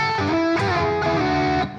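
A distorted electric guitar plays a short double-stop slide riff in a shred style, with sustained, buzzing notes that glide quickly between pitches and cut off abruptly at the end.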